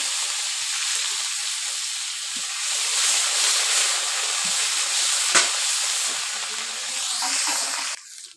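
A loud, steady hiss of onion paste sizzling in hot oil left from frying stinging catfish, broad and continuous, with a faint stir or clink near the middle before it cuts off.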